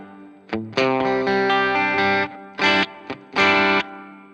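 Distorted electric guitar through a hall reverb effect on a BOSS IR-2 plays several sustained chords and short stabs, each ringing out with a roomy reverb tail between phrases.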